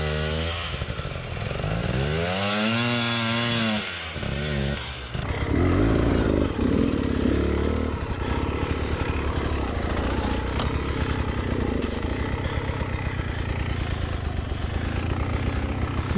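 An enduro motorcycle engine revs hard and strains on a steep mountain climb at a stone quarry, rising and falling in pitch, loud and close, with no speech.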